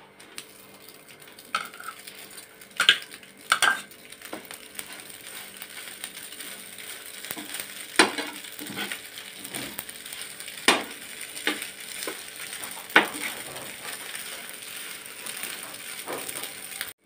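Dry pasta being sautéed in a pan, stirred with a spoon that gives off repeated scraping clicks and rattles over a soft, steady frying hiss, heard close with no talk.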